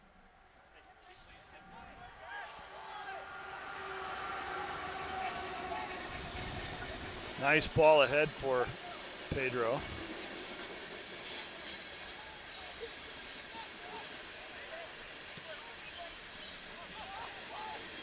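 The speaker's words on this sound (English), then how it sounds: "As a southbound freight train heads our way." A southbound freight train rolls past beside an outdoor college soccer match, a steady broad rumble sustained through the clip beneath crowd noise, whistle-like tones and a commentator talking.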